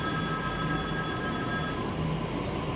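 A Delhi metro train at a station on the line toward Noida Electronic City, with a steady loud rumble and electrical whine from the cars, a faint wheel squeal and no talking.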